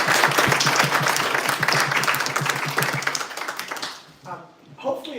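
Sustained audience applause after a debate evening on AGI and consciousness, dense clapping that fills the room before thinning out and fading near the end.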